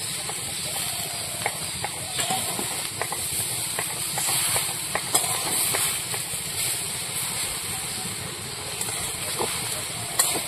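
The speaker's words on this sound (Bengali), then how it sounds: "এবার ভেজে রাখা আলুগুলো দিয়ে দেবো।" Fried potatoes go into a sizzling pan for a dry cabbage curry, giving a continuous loud hiss with small crackles and occasional sharp pops over its whole length.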